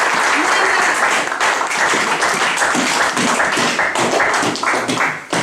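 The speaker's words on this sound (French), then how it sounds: "Applaudissons pour la gloire de notre" A church congregation claps loudly and steadily during a Sunday sermon, dense sustained applause filling the room with rapid overlapping hand claps and a few voices mixed in.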